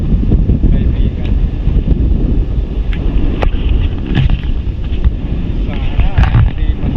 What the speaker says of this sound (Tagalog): Malakas pa rin ang hangin kaibigan.